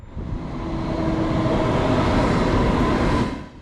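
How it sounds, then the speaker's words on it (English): An ICE1 high-speed train pulls into a German station with a loud, close rumble and whine that builds, holds steady, then drops away abruptly. "And 10 minutes later our train arrives."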